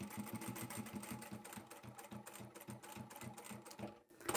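A sewing machine with a size 90/14 needle stitches fabric for a simple storage box, producing a quick, steady mechanical chatter that stays soft and close and stops briefly near the end.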